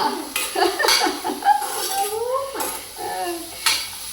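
Broccoli frying in a pan while being stirred, with scraping utensil strokes and a light sizzle, intermittent clinks against the pan, close and moderately loud, no talking.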